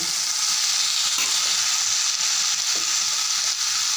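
Loud, steady sizzling of tomato and ginger-garlic paste sautéing with onions in a hot pan, a continuous close frying hiss broken by a few faint stirring scrapes, with no voices.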